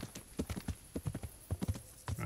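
Horse hooves clip-clop in the medieval video game Kingdom Come Deliverance, a quick, uneven run of sharp thuds at moderate distance, with no talking over them.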